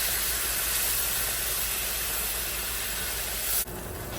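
A butter and flour roux cooks in a pan, giving a close, steady hiss and sizzle that cuts off sharply near the end.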